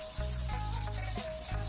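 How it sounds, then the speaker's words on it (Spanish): A car headlight on a Renault being wet-sanded by hand with 800-grit sandpaper: close, steady rasping strokes in a repeating back-and-forth rhythm with no talking. "Vamos a lijar el faro con una lija de 800."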